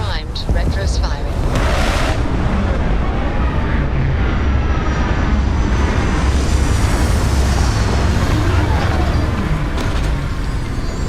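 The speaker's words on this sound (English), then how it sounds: "Landing struts primed. Retros firing." A spaceship in Starfield sets down with retro thrusters firing, a loud, continuous roaring rumble with a rushing hiss that holds steady throughout, close and powerful, with a voice faintly underneath.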